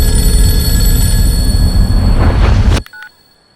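A telephone rings loudly and continuously nearby, then cuts off abruptly and is followed by a short, faint electronic tone and silence.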